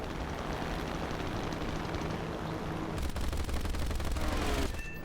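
Sustained machine gun fire from a P-43 Lancer fighter in War Thunder, a dense rapid burst of gunfire over engine drone, growing louder near the end before cutting off.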